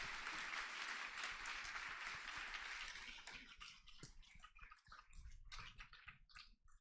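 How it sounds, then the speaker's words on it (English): An audience at a girls' leadership summit applauds a student panel, a fairly soft but dense wash of clapping that thins after about three seconds into scattered, fading individual claps. "Could we just please have another round of applause for them"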